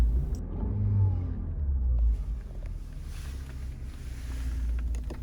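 A 2019 Lexus RX300 engine idles after an emergency start, giving a steady low rumble close by that runs unbroken for several seconds with no talking.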